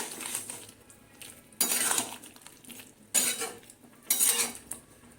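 Bengali sukto being stirred in a pot after sugar goes in, three separate bursts of metal spoon scraping and clinking against the pan, close by, with quieter gaps between them.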